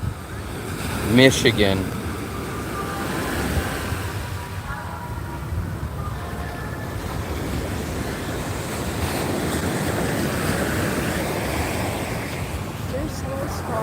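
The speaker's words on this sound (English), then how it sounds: "Can you guys hear the waves? It's crashing." Ocean surf rolls steadily onto a beach at night in Da Nang, a broad continuous wash with wind buffeting the microphone, while people talk over it close by.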